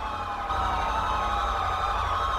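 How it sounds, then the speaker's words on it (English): Many police sirens wail at once in a video game police patrol, layered overlapping tones sustained and loud throughout with no pause. "that's so many sirens"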